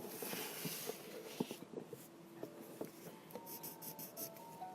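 Light blender pencil strokes scratching on paper, soft repeated rubbing with faint taps, close up, no voices.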